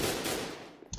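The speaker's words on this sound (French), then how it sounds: "c'est le son du jeu" Loud, dense game gunfire fills the clip, a continuous burst of shots that fades slightly before a sharp new blast near the end.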